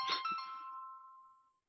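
A phone rings with a bright electronic chime, a single loud burst that rings on and fades out over about a second and a half, with no talking.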